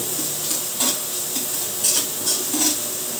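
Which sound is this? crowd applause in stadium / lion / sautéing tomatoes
sautéing tomatoes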